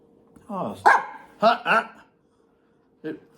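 A pair of small, alert dogs bark up close in a few short, sharp bursts, then pause before one last quick yap.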